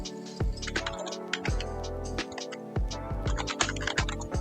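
Someone types C# code on a computer keyboard, producing a close, steady clatter of uneven keystrokes with a few heavier taps.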